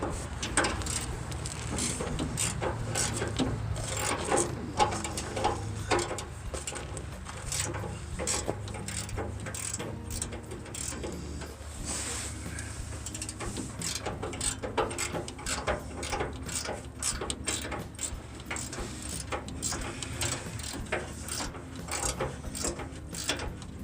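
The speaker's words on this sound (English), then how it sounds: "we're just tightening up the straps at this point" Steady ratcheting clicks as a hand ratchet tightens the fuel tank straps under a 2006 Ford E-350, a continuous rapid clatter of pawl and gear with no talking.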